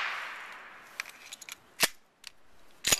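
Several sharp, fairly close pistol shots from a Walther PK380 ring out at irregular intervals, with a fading hiss of echo and small clicks between them.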